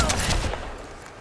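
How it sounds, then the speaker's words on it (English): Gunfire in the Apex Legends battle royale game: a loud, dense crackle of shots in the first half second, then fading into a softer rumble. "Getting shot at."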